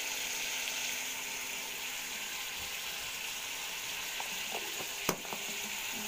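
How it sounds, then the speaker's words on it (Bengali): Potato and pointed gourd frying in hot oil with onion, garlic and chilli, giving a steady close sizzle, with a few sharp scraping knocks from stirring near the end. "পটল আলু ভাজা হবে।"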